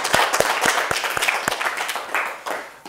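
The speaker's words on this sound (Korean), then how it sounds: "또 한 박수 좀 주세요" A small audience at a Tao Te Ching lecture gathering gives a round of applause, a few distinct sharp claps standing out from a dense patter that thins toward the end.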